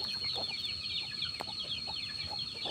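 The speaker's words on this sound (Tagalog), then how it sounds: "Ibang klaseng labuyo nga." A labuyo, a wild junglefowl chicken, clucks in a short run of soft, repeated notes at moderate distance over a faint steady hiss.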